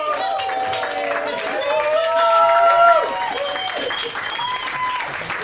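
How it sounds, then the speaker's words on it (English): Comedy club audience bursting into applause with whoops and cheers, dense clapping and high shouted calls rising to a peak then easing, with a voice talking over the crowd. "Please could you start some rounds of applause, whooping and cheering"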